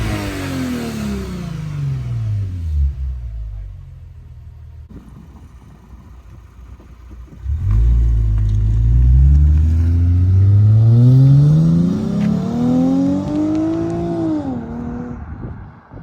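Lexus IS350 fitted with a Megan midpipe and Tsudo axleback exhaust revving up and down, a smooth, fairly subdued engine rising and falling in pitch over several sweeps, recorded close with no talking.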